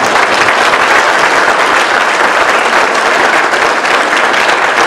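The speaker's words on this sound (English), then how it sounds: "Let's give him a round of applause." A crowd at a Berkeley County sheriff's candidate forum applauds the sheriff in one steady, dense round of clapping that holds at full loudness throughout.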